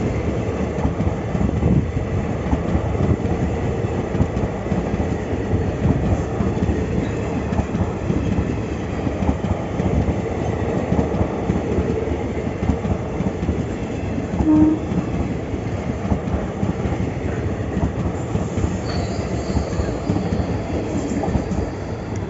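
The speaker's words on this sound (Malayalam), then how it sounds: "തിരുനെൽവേലിയിൽ നിന്നും പാലക്കാട് ജംഗ്ഷൻ വരെ പോകുന്ന പാലരുവി എക്സ്പ്രസ് ആണ് കേട്ടോ വരുന്നത്" The Palaruvi Express, hauled by an Arakkonam-shed WP4 locomotive, rumbles past on the Indian Railway line from Tirunelveli to Palakkad, a loud, continuous roar of wheels and carriages with faint rhythmic clatter.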